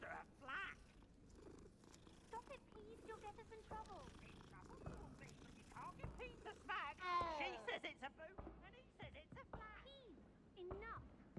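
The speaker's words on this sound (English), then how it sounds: "Gotta pet the kitty." A cat purrs while being petted in the video game Hogwarts Legacy, a soft low rumble running under busy chatter, with high meow-like calls and other voices talking throughout.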